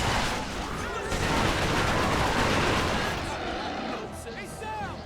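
Heavy gunfire from Resistance: Fall of Man rattles in a dense, continuous barrage, with bursts and whooshing effects near the end, loud throughout.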